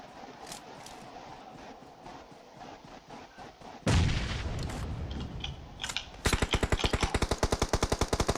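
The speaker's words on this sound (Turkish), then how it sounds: "Başkası sıkıyor." Gunfire in the PUBG Mobile video game: scattered distant shots give way to a loud boom, then a close rapid burst of automatic fire crackling in a fast even rhythm.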